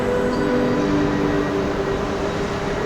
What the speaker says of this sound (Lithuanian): Tolimų kelionių susisiekimo Stadler firmos traukinys.